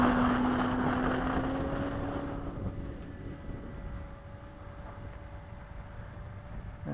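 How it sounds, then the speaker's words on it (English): An E-flite Cessna 150 RC model airplane takes off at a flying field on a windy day, its steady electric motor whine droning and slowly fading as it climbs away, with wind noise throughout. "Got your nice scale takeoff."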